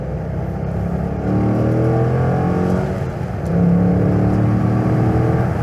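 A 350-horsepower V8 in a Chevrolet Corvette C5 pulls hard on the highway, the engine rising through two steady climbs of rising pitch, loud and close from inside the car, with no speech.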